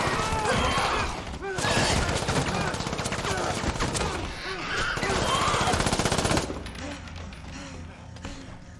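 Rapid gunfire from the film Resident Evil: Welcome to Raccoon City (2021), loud and dense shots rattling almost continuously for about six seconds before abruptly dropping away to a quieter rumble.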